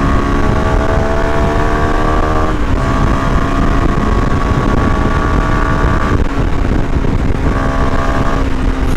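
A Kawasaki NK250 motorcycle engine revs loud and close, climbing steadily to a sustained high pitch, dipping briefly around three and six seconds, then rising again.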